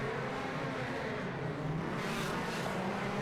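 DTM race cars at the Lausitzring screaming past at speed, a loud continuous roar of engines close by with one car surging slightly louder near the end.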